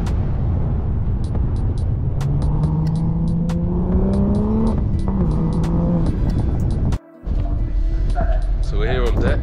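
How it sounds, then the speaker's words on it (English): A Toyota Supra MK5 with a BMW 3-litre six-cylinder engine accelerating, its droning engine note climbing in pitch through the gears, heard beneath heavy wind buffeting with sharp clicks along the way. "If you just close your eyes, you might hear a BMW 3-litre six-cylinder."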